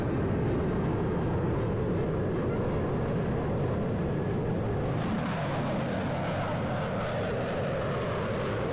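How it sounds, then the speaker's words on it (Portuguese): Saab Gripen fighter jet taking off in a simulation, a steady loud broadband engine roar that swells slightly as it goes, heard alone without talk. "Só o Gripen decolando."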